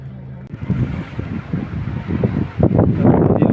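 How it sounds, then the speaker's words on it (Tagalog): Strong coastal wind at Kapurpurawan rock formation, Burgos, Ilocos Norte, buffets the microphone in a steady roar, with gusts growing louder toward the end. "Ang lakas ng hangin."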